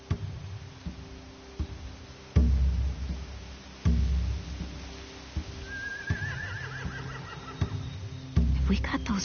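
Horses whinny and snort in The Walking Dead video game, with a clear rising neigh in the middle, heavy thuds around it, and voices talking over parts of the scene.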